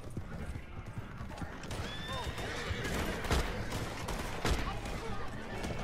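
Horse galloping in the video game Red Dead Online, rapid rhythmic hoofbeats with a neigh and distant gunfire mixed in, sustained and moderately loud throughout.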